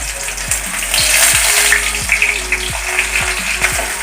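Ginger, garlic and curry leaves fry in hot oil with a loud, bright sizzle, while a spoon or spatula scrapes and knocks against the pan at a steady rhythm.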